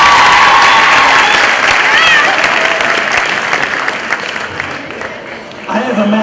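A large crowd at a 12th grade graduation applauds loudly with some cheering and whistles, the clapping gradually tapering off before a voice briefly comes in at the end.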